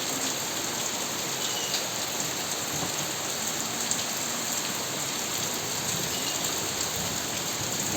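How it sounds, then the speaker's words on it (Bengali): Heavy rain pours down in a dense, continuous hiss of drops hitting surfaces, steady and close throughout, with no clear thunderclap standing out. "একটু প্রচুর পরিমাণে বৃষ্টি হচ্ছে আর মেঘও ডাকছে"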